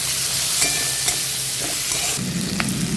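Five-spice and whole cumin seeds are tempered in hot oil for a banana flower ghonto with dal, giving a steady, close sizzle with faint stirring clatter and a burst of louder spitting near the end.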